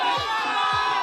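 Crowd at a live esports match, the MPL PH Season 15 Mobile Legends tournament, cheering and shouting in a dense, loud, continuous roar with no separate voices standing out.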